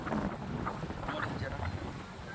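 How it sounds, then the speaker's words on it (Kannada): Steady, rushing wind noise buffeting the microphone throughout on a mountain at Srisailam, a continuous low roar with no clear breaks. "ಕೂಲಾಗಿದೆ ಗಾಳಿ ಬಿಡ್ತಾ ಇದೆ"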